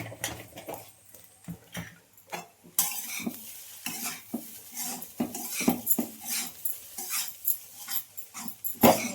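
Egg fried rice with salt and chili powder being stirred in a pan, a spatula scraping and clattering in quick, irregular strokes over a light sizzle, close and clear, with no talking.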